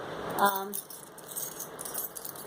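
House keys jangle briefly near the start, a short close metallic rattle that fades quickly, followed by quiet room tone with faint background voices.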